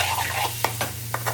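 A prawn stuffing mixture stirred in a pan over a gentle sizzle, with a few quick spatula scrapes and clicks in close succession, near and moderately loud.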